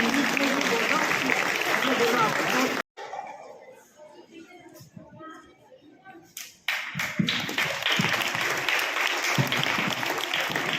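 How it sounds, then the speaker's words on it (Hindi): Audience applause welcoming children at a Children's Day celebration: loud, dense clapping fills the opening seconds, breaks off to a quieter stretch with talk, then swells back into sustained applause. "इन सभी बच्चों का जोरदार तालियों से स्वागत करें।"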